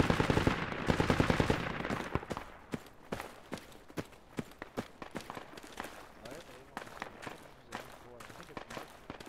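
Machine gun fire from a technical in the military shooter game Project Reality, a dense automatic burst up close followed by repeated sharp single and short-burst shots, with a voice talking underneath.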